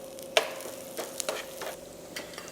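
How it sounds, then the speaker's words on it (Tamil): Crushed garlic in oil sizzles softly in a pan while a few quick stirring scrapes and taps break through, close by. "இடித்த பூண்டு போடுறோம்"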